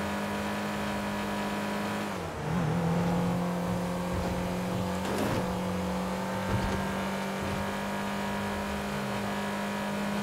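Car in GTA5 driving and accelerating, engine note holding a steady drone then dipping and climbing again as it speeds up, loud and close, alone without talk.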